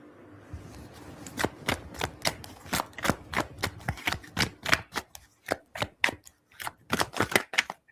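Tarot cards are riffled and bridged again and again in a modified bridge shuffle, giving sharp, close, fluttering bursts in a quick, uneven rhythm with no talk over them.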